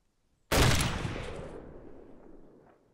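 A single sniper rifle shot rings out in the military shooter game Arma 2, a sudden loud blast whose echo slowly fades over the next two seconds, with no talk.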